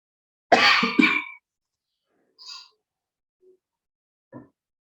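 One person coughs in a harsh, close double burst, then a few small throat sounds follow after long pauses.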